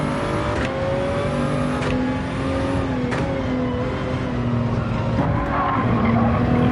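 Tires squeal steadily as a race car brakes in Gran Turismo 7 on the Nürburgring during an endurance exhibition race, the loud skid holding over a constant engine drone.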